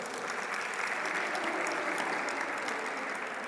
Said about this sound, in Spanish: les voy a pedir un aplauso para la maestra Esmeralda Dionisio, por favor.